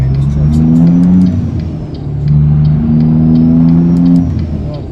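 Straight-piped diesel truck with 8-inch pipes in American Truck Simulator, its engine droning loud and deep in two long revving pulls with a brief dip between them, alone without talk.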